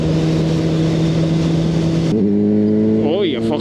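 A tractor engine drones loud and close after its throttle is knocked by accident, holding a steady pitch and then shifting abruptly to a new note partway through.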